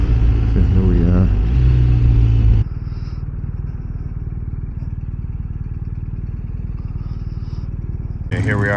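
A Harley-Davidson motorcycle pulls up, its engine loud and rumbling at first, then settling into a steady lower idle thump, with brief clicks and a returning surge at the end.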